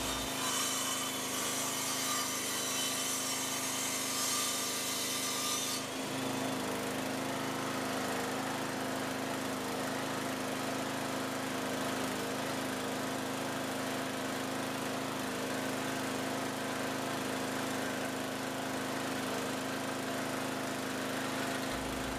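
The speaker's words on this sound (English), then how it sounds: "Even at a lower speed, this drill has no problem with this particular job." Engine-driven alternator welder powering a 120-volt drill: a steady, loud mechanical drone with a high whine that drops in pitch after about six seconds, continuing alone without talk.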